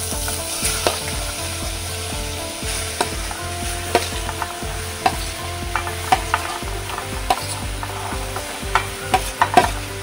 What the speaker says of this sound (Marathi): असं लसूण जरा लाल झालं की आता आपण भाजी फोडणीत टाकतो